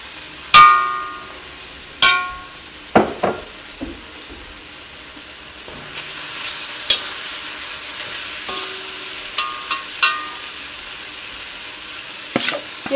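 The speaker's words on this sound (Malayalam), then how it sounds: "ഇനി ഇതിലേക്ക് ക്യാപ്സിക്കം ചേർക്കാൻ വേണ്ടിയിട്ട് പോകുന്നുണ്ട്" Capsicum and fried beef stir-fried in a hot pan, a continuous sizzle broken by several sharp metal spatula clanks and scrapes against the pan at irregular intervals, close and without speech.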